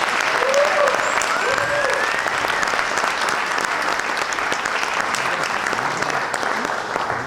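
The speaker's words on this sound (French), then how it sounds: "Du coup je vous demande un tonnerre d'applaudissements pour Margot Medcourt, s'il vous plaît." A large crowd at a political rally applauds steadily and loudly throughout, a dense continuous wash of clapping with no pauses.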